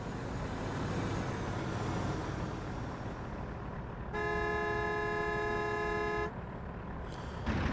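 A single long, sustained car horn honk in the American Truck Simulator video game cuts in over continuous rumbling road and engine noise, then stops abruptly.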